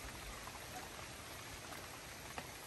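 Light rain falls steadily in a front yard, giving a faint, even hiss of drops with no breaks and no voices.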